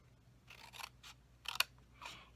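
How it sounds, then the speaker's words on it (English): Scissors snipping along the score lines of a paper treat box, several crisp close cuts in uneven succession, quiet and intimate, with no voices. "I'm going to cut up the score lines on the ends here"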